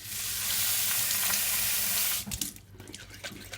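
Running tap water splashes steadily into a bowl of overnight-soaked Sango radish seeds, then cuts off into wet swishing and sloshing as the seeds are swirled and rinsed in a sink, close and loud.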